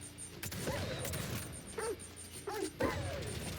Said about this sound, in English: Suicide dogs.